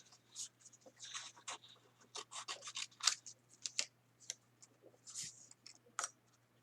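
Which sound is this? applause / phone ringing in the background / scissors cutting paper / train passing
scissors cutting paper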